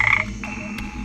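A Kambo frog croaks at close range: one strong croak at the start, then a fainter call and a soft click, all within about a second.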